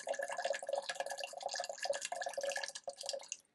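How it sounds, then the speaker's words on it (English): Water pours from an evoloop travel electric kettle in a steady trickling stream with small gurgles and splashes, close and fairly quiet, then tapers off. "I'll just do a little test showing what it looks like to pour from it."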